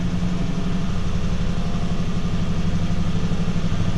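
A 1995 Ford F150 4x4 engine idles steadily, a continuous close low rumble that holds an even level throughout with no talk over it.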